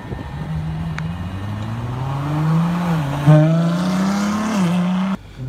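A red Ferrari's engine revs steadily and loudly, its pitch climbing and dipping through several surges before cutting off abruptly near the end, with no voices.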